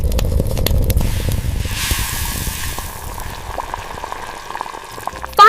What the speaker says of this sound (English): Now we will stir all the ingredients nicely.